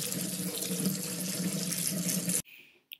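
Tap water runs steadily over soaked dried mushrooms being washed, a close, hissing splash that cuts off sharply, followed by a couple of faint drips.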